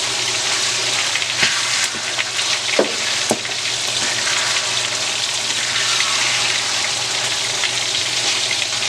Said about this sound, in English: It's been frying for 4 minutes and I'm going to add all my mixed vegetables.